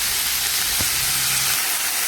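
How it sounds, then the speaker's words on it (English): Cabbage frying in a pan for egg rolls, a steady broadband sizzle and hiss that runs unbroken for about two seconds, fairly loud and close with no talking. "let it fry for 1 minute, and then I'm going to add the cabbage"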